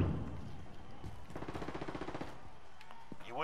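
MP7 submachine gun fire in Call of Duty Warzone, a fast rattling automatic burst of evenly spaced shots in the middle of the clip, fairly quiet and set among other game noise.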